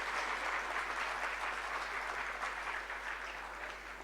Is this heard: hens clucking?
no